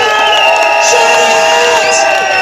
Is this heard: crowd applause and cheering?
yes